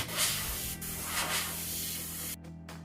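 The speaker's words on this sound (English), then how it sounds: "make sure your airbrush is running" An airbrush sprays paint onto a tumbler with a steady, close hiss that swells slightly a few times, then cuts off sharply near the end, with no voices.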